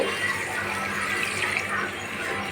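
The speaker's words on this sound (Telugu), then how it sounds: "ఇప్పుడు నేను పులుసు పోస్తున్నా" Tamarind juice poured into a crab curry, a steady gentle liquid pour and splash lasting a couple of seconds, fairly quiet and without talk.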